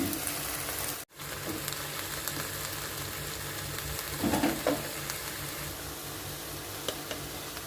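Chicken and onion sizzle and crackle in a hot pan during a stir-fry with bell peppers, a steady frying hiss broken by a brief dropout and a few clanks of stirring.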